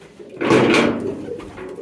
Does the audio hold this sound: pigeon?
yes